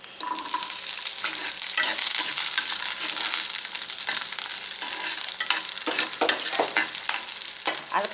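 Coconut slices and other ingredients for a dried fish and brinjal thokku sizzle and fry steadily in a pan, with intermittent scraping and stirring clatter close by and no voices.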